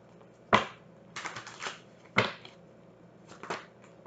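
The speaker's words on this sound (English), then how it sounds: "Spirit wants me to shuffle again" Tarot cards are shuffled close up in quiet surroundings, giving several sharp riffling bursts in an uneven rhythm with brief pauses between them.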